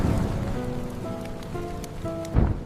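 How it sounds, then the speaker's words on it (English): Cold storm rain falls steadily in a close, dense patter, with faint tonal music underneath and a brief louder gust near the end. "Cold rain make Grok shake."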